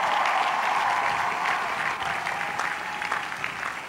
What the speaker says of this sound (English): Let's give the parents and the families a big hand of applause.